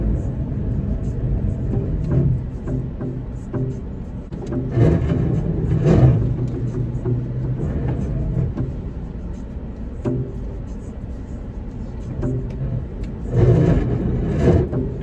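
A Toyota Corolla with freshly adjusted camber is driven, its engine humming and revving from inside the cabin beneath steady road noise while someone talks over it.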